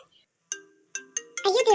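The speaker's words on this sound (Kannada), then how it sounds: "ಪ್ರೀತಿ ಕಾಲ್ ಮಾಡ್ತಾ ಇದ್ದಾಳೆ" A mobile phone rings with an incoming call, sounding as a short, clear electronic ringtone with a few separate tones that build into a louder melodic burst at the end, close and fairly loud, with no talk over it.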